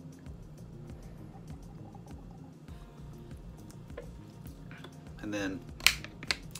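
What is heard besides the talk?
plastic bottle top lid snapping on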